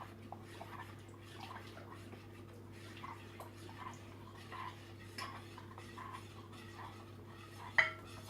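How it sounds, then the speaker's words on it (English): Spoon stirring yogurt in a bowl, giving soft, faint scraping and clinks that repeat through the clip, with a sharper tap of spoon on the bowl near the end over a steady low hum. "I'm going to take 3 spoons of yogurt and mix it nicely,"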